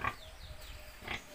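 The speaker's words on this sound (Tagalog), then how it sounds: "May alaga akong baboy dito." A pregnant pig grunts twice nearby, short low snorting oinks about a second apart, with faint wind noise in the background.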